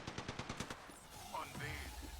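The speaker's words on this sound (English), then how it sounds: "They're firing on me." A short burst of rapid automatic gunfire from a video game, about ten quick shots in under a second, followed by muffled game noise and movement sounds.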